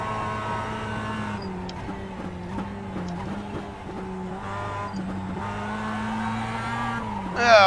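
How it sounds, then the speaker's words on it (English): A Mazda MX-5 Cup race car in the iRacing game at Summit Point Raceway slides sideways: a steady engine drone with its pitch wavering as revs rise and fall, and a brief sharp squeal right at the end. "Oh, stabbed the throttle a little too hard. Got the car sideways, trying to hold on to it."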